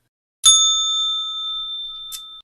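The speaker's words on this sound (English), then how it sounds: "So Bert, this bell's for you." A single bright ding of a small bell rung during a live market broadcast, loud and close, with a clear ringing tone that sustains and slowly decays for about two seconds, followed by a faint second touch near the end.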